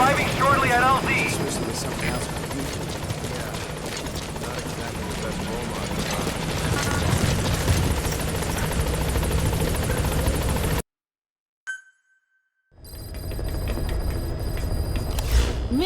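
Helicopter arriving at a landing zone in Metal Gear Solid V, a loud continuous rotor roar that cuts out abruptly, leaving brief silence and a blip before the engine noise returns, with a radio voice over it.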